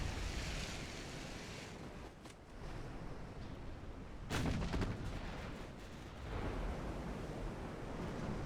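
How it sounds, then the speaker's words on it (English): Warship guns firing in the naval combat game Ultimate Admiral Dreadnoughts: a steady roar of sea and wind broken by a loud, booming salvo near the middle, with rumbling reports trailing off afterward. "Just to get all of our guns firing."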